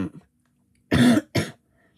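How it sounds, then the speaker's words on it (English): Two sharp coughs ring out close and loud, one longer then a shorter one right after, in an otherwise quiet room. "Sorry about the cough."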